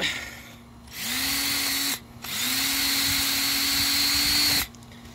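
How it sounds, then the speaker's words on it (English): A handheld screw gun drives screws in two long bursts, its motor whining steadily then stopping between runs, loud and close with no talk over it. "We're going to get the screw gun out."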